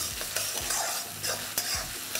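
Ginger and green chilies being stirred in a frying pan for a vegetarian dinner, a soft continuous sizzle with repeated scraping strokes of a spatula, close and fairly quiet.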